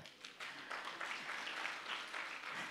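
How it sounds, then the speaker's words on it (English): A women's conference audience applauds themselves, a continuous wash of many hands clapping, faint and distant, holding steady without talk over it. "Clap for yourself."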